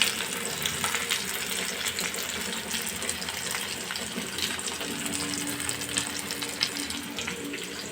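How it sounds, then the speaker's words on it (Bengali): Onion and capsicum frying in a hot wok give a steady, close sizzle that runs the whole way through, with faint stirring and watery hiss and no talking. "এই যে এখানে পেঁয়াজগুলো দিয়ে দিয়েছি, পেঁয়াজ ক্যাপসিকাম ভাজা হচ্ছে।"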